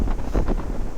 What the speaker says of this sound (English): It's just with the wind and that